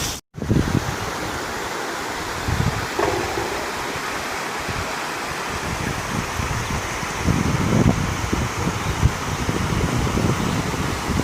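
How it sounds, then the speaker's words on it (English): A river flows in a continuous broad rush of water, steady and fairly close, with light rumbling in the low end and no voices. "That's the river, guys."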